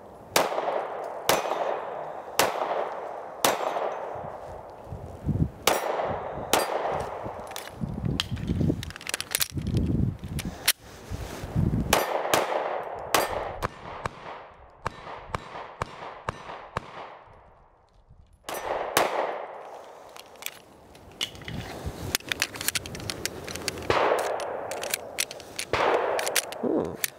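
A Ruger LC9S concealed-carry pistol fires repeatedly at steel targets outdoors. Sharp reports come in irregular strings, some quick and some spaced, each followed by a ringing metallic clang, with a short lull near the middle.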